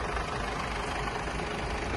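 A 2021 Mercedes-Benz Sprinter van's 2.2-litre 160 hp diesel engine idles with a steady, dense low rumble, close and unchanging, with no talk.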